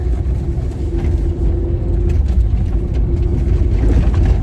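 A car engine idles and pulls on its first drive in 12 years, a loud, steady low rumble with a faint tonal hum running throughout, no voices over it.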